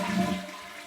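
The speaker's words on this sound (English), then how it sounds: "then you want to flush the toilet." Brief rushing gurgle of a toilet being flushed, water draining loudly and close for under a second.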